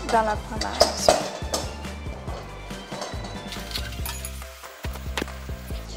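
A utensil mixes eggs into batter in a bowl, making repeated clinks and scraping taps against the bowl with irregular stirring strokes, close and fairly clear, with faint background noise.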